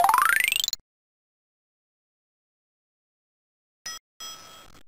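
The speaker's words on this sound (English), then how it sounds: "Just click the bell when you're ready to pick up more passengers." Bright bicycle-style bell in the Mighty Math Zoo Zillions educational game, one quick rising ring at the start, then silence followed by short soft game sounds.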